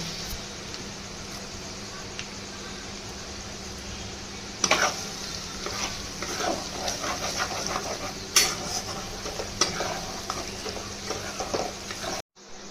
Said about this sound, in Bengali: রসুন কুচিগুলো একটু ভাজা হয়ে গেলেই আদা কুচিগুলো দিয়ে দেবো।